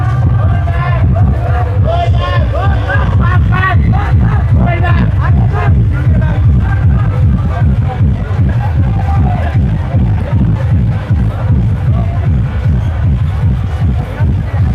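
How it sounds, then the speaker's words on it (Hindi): A large, dense crowd at a kawad yatra fair in Surajpur beside a temple and market stalls, steady babble of many voices and movement close by, with someone talking over the din throughout. "रोज की तरह दुकान लगी से और भीड़ है खतरनाक।"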